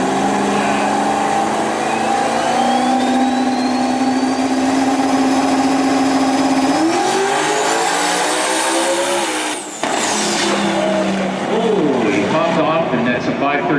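Twin-turbocharged drag racing car engine at a drag strip, a loud sustained roar with a rising whine through the run, a sharp break near ten seconds, then more engine noise while commentary runs over it.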